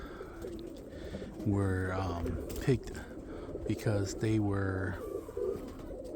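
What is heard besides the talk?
roller pigeons cooing in the loft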